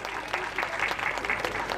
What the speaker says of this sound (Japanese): どうぞ大きな拍手もう一度お送りください